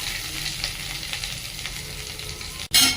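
Curry leaves and finely chopped onion frying in a pan, a steady close sizzle throughout, broken by a brief dropout and then a sudden louder burst of hissing at the end.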